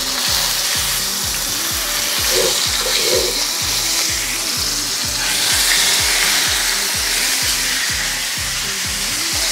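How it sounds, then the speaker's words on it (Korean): Steak searing in a well-oiled, heat-conductive frying pan, a loud continuous sizzle with a crackling spatter and a steady pulsing rhythm of pops throughout. "스테이크를 구워 볼게요."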